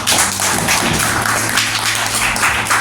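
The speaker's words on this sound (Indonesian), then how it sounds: "Mari kita beri aplaus untuk kita semua." A group applauding together at the end of an academic coaching session: dense, continuous clapping that is close and loud, holding steady for a few seconds.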